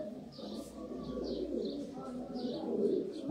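Sialkoti pigeons cooing in soft repeated calls, fairly faint, over a low background murmur.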